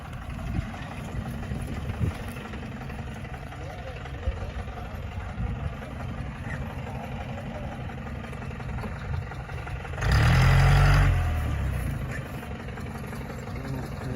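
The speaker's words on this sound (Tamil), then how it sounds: "போகுது பாருங்க வண்டி. சஃபாரி அழகாக போகுது வண்டி." A safari jeep crawls downhill off-road on a rough track at Masinagudi, its engine a steady low rumble throughout that swells into a louder revving surge for a couple of seconds before settling back.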